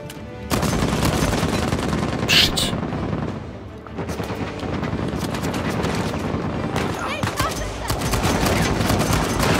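Dense gunfire rattles in Uncharted 4 on PS4, with continuous rapid automatic bursts and sharper single shots layered into a loud, unbroken barrage.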